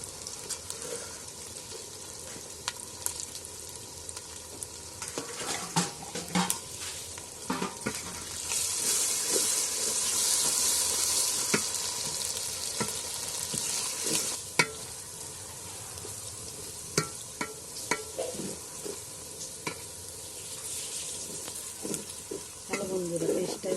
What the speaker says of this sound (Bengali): বন্ধুরা পেস্টটা এবার আমার ভাজা ভাজা হয়ে গেছে।